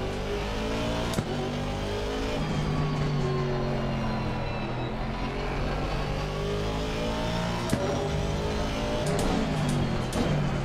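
An Aston Martin race car engine in the racing game Assetto Corsa Competizione, roaring steadily with rising and falling pitch as it revs through gear changes, loud and continuous.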